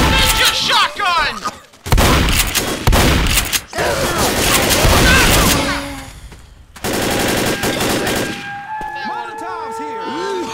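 Shotgun fire in the zombie shooter Left 4 Dead, amid loud, dense bursts of rapid gunfire broken by short pauses, with shouting voices and other game effects mixed in.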